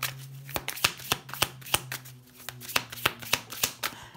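Tarot cards are shuffled and laid out one by one, a close sequence of crisp flicks and soft slaps in an uneven rhythm, with a faint hum beneath.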